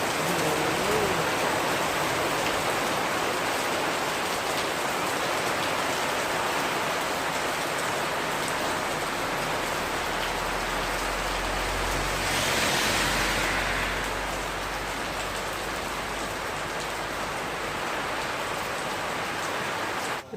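Steady heavy rain hisses down continuously, pattering on surfaces close by, with a brief low rumble swelling partway through.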